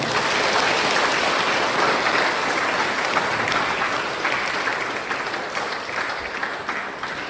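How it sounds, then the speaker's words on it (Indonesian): An audience applauding the four candidates at a high school student council election debate in Merauke, Papua; sustained, loud crowd clapping that stays dense and slowly tapers slightly, with no speech over it. "Kita beri tepuk tangan untuk keempat teman kita."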